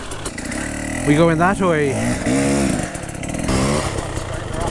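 A hard enduro dirt bike engine with a fresh motor revs in sharp rising and falling bursts close by, loud and buzzy, while a person speaks briefly over it.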